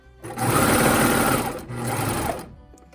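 A sewing machine stitches a tulle summer dress in two loud, close, continuous runs, a steady motor whir with a brief pause between them.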